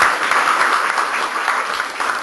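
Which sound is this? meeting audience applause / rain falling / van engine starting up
meeting audience applause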